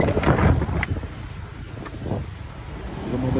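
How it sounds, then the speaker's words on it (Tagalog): Wind buffets a microphone during a motorcycle ride in Gumaca, giving a loud, uneven rushing roar with low gusty thumps throughout. "Ang hangin, ang lamig."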